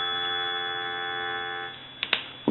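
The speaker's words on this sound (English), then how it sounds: "Give you some dial tone." A Western Electric 500 desk telephone gives a steady, faint dial tone that hums on evenly. It drops away toward the end, leaving a few small clicks and a soft bump.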